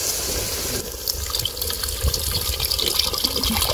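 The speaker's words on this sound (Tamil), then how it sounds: "குழம்புக்கு தேவையான தண்ணி புளி தண்ணி எல்லாமே ஊற்றியாச்சு" Tamarind water pouring into a clay pot of murrel fish gravy, a loud, steady, close splashing gush that runs continuously from start to end.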